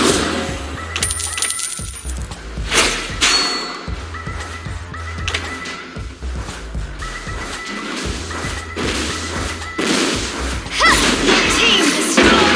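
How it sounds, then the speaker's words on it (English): Mobile Legends match in which an enemy turret is destroyed, with a busy mix of crashing impacts, metallic clinks and thuds from the game, dense and continuous with a game voice announcing over the action. "Your team destroyed the turret!"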